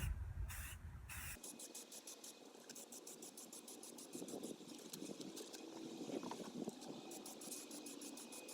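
Aerosol spray paint hisses in steady bursts as light coats go onto a Boba Fett helmet in a garage, a broad continuous spray with short pauses between passes, fairly close.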